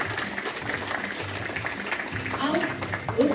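An audience at a celebration applauds during a gift presentation, a steady patter of clapping that continues under a host speaking into a microphone.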